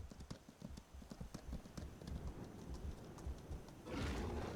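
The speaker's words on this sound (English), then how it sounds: "You can enjoy the horse riding in this game the way it is." A horse ridden in the Mages & Vikings game clip-clops with quick, steady hoofbeats at close range over a soft background wash, without any talking.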